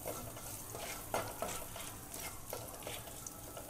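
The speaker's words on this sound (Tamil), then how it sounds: "அதில் கொஞ்சம் பெப்பர், சால்ட் போட்டு லைட்டாக மிக்ஸ் பண்ணிவிட்டு" Pepper and salt being stirred into a sautéing pan with curry leaves for Egg 65. A soft, steady sizzle runs under quiet, irregular spoon scrapes and taps against the pan, with no voices.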